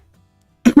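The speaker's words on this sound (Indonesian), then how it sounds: "batuk dulu" A quick double cough, close and fairly loud, coming right after a short near-silence.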